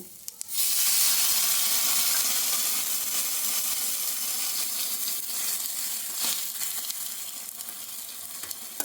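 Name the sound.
water added to frying mixture, sizzling and steaming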